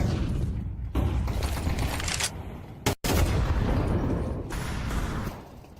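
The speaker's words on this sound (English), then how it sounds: "Pistols push through. Nice shots from Magisk" Pistol gunfire from a Counter-Strike match, a dense run of sharp shots and bursts that fills the whole stretch with only a brief break near the middle.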